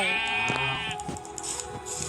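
A video game sheep gives a drawn-out, wavering bleat followed by a few softer bleats, clear and close against a faint background.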